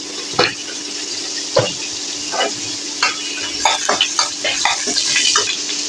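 Bay leaf and cumin seeds hit hot oil with a crackling sizzle, broken by several sharp spatters and utensil knocks that come faster toward the end.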